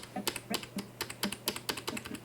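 Left and right arrow keys on a computer keyboard are tapped in an irregular run of about a dozen crisp clicks while navigating frame by frame in Premiere Pro, close and dry with no talking.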